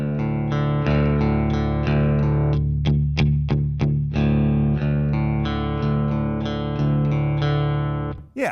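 Electric guitar played through a Bad Cat Ocelot amp turned up, loud distorted chords ringing with a burst of quick staccato stabs in the middle, then sustained again before cutting off.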